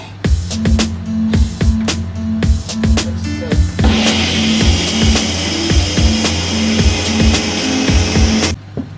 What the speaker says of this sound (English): I'm going to just blend it quickly.